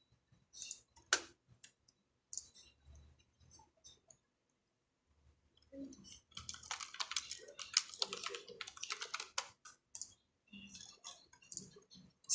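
Keystrokes on a computer keyboard sound close and crisp, first as scattered single clicks with pauses, then as a dense, rapid burst of typing, followed by a few more taps.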